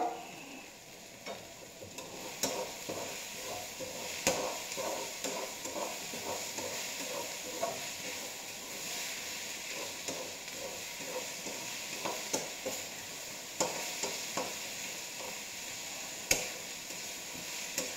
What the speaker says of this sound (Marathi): हे सगळं मिश्रण हिरवा ठेचा घालून आपण भाजून घेणार आहोत